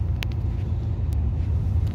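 A Kia Sonet 1.5 diesel automatic drives along, heard from inside as a steady low engine and road rumble with a few faint ticks, no talking.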